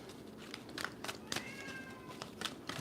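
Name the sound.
cats waking up and meowing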